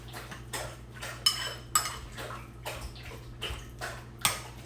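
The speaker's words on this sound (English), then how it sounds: "But let's stir in the guacamole." Guacamole being stirred into a dish, a run of rhythmic spoon scrapes and light clinks against the bowl, close and quiet with no talk.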